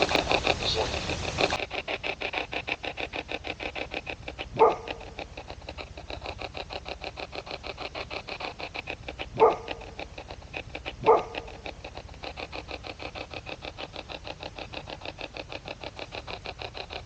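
Three short, isolated dog barks, fairly distant, rise above a steady rhythmic mechanical ticking that runs throughout.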